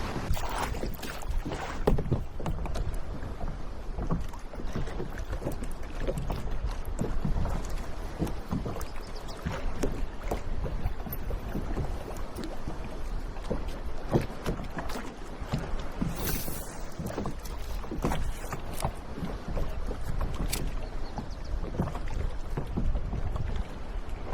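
Kayak paddle strokes dip and swish through lake water in an irregular rhythm, with steady splashing and light wind buffeting the microphone close by, no voices.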